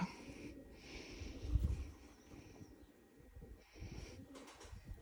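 A pet pigeon kept at home gives faint, low coos in a quiet room.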